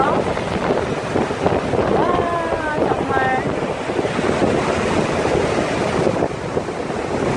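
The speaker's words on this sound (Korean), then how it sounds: "이 폭포는 정말 장관입니다" Niagara Falls thunders nearby in a loud, unbroken roar of falling water mixed with gusty wind on the microphone, while a voice briefly exclaims in amazement over it.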